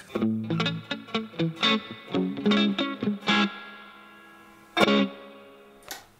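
Electric guitar through a Fender Blackface amp with real spring reverb: a quick run of plucked notes and chords, then a ringing tail and two isolated struck chords with splashy reverb decay.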